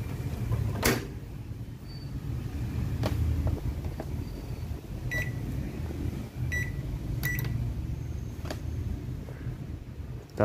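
A household oven's fan motor, reconnected to its supply line during a repair, whirs in a low, steady drone, with a few sharp clicks and small knocks scattered over it. No one speaks.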